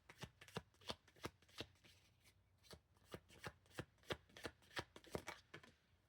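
Tarot cards being shuffled by hand, a quiet close series of about twenty quick riffling flutters in a steady rhythm.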